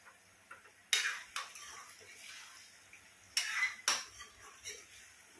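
A spoon scrapes and clinks against a pot while duck curry is stirred, several sharp metallic knocks and scrapes spaced irregularly over a quiet background.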